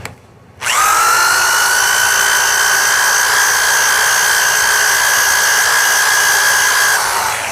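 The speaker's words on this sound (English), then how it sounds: "I mounted the flap wheel in a heavy-duty drill" A heavy-duty drill running a flap wheel whines at a steady high pitch after a brief quiet start, running loud and continuous without pause.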